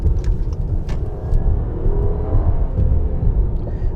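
A 2014 Acura RLX with about 100,000 miles being pushed hard into a corner gives off a steady low engine rumble and road noise heard from inside the cabin, with a continuous whir and no voices.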